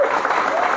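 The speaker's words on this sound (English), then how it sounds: "Another round of applause" A short burst of audience applause rings out at a Sukanta Academy school certificate ceremony, many hands clapping together in a brief, fairly loud moment.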